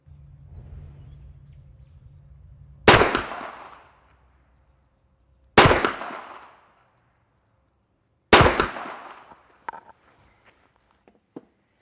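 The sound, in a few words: Gen-3 Sub 2000 rifle gunshots fired rapidly at 50 yards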